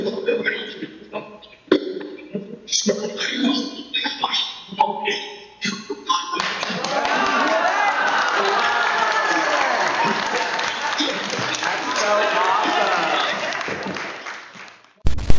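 A small group claps together during a paranormal ghost-hunting session, a steady burst of applause lasting several seconds after scattered, uneven talk and taps.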